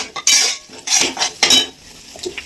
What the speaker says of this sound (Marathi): फोडणी चांगली परतून द्यायची.